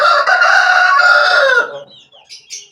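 Chickens clucking close by in a steady, loud burst that trails off into a few softer calls.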